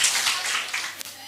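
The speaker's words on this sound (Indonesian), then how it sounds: "Kurang keras tepuk tangannya, boleh tepuk tangan sekali lagi?" Audience applause at a university stadium general lecture, a dense wash of clapping from many hands that fades out after about a second.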